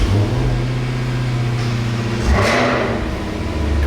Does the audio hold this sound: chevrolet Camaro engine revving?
yes